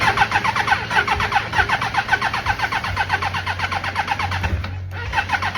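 A small engine, likely a motorcycle, cranks and fires up with a steady rapid chugging pulse, running loud and close throughout with a brief dip near the end.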